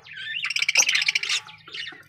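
Budgies chirping and twittering close by, a rapid burst of bright tweets and squawks that fades, then a shorter call near the end over a low steady hum.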